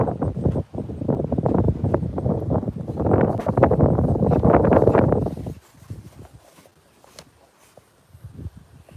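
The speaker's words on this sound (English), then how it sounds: "Sorry, it's kind of windy." Strong gusts of wind rumble and buffet the microphone for several seconds near a bison herd, then die down to a quieter, scattered background.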